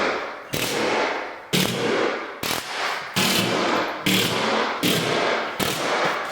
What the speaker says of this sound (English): Putting the screw about every foot.